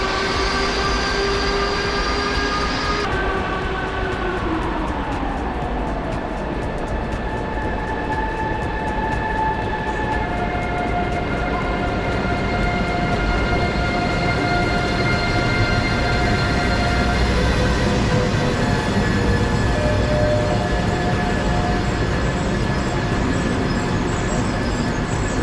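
A Haramain high-speed train bound for Medina hums steadily at a Saudi Arabian station platform, with a long, even rumble and tonal whine shifting as it idles or moves slowly, close and continuous throughout without talk.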